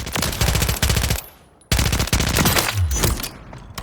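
Rapid bursts from the AMR9 in Call of Duty Modern Warfare III, loud repeated multi-round volleys that stop for a brief pause and then resume in quick succession.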